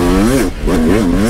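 An enduro dirt bike fitted with a new exhaust pipe and piston, revving hard and close in two rising and falling surges with a brief dip between them.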